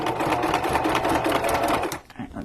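A sewing machine runs a zigzag stitch over ribbon on a nature journal cover, making rapid, continuous mechanical stitching at close range that stops abruptly near the end.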